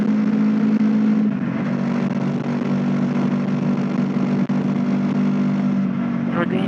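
A small 125 motorcycle engine drones steadily at constant throttle in third gear going uphill, a buzzing hum close by with wind noise, holding a fairly even pitch throughout.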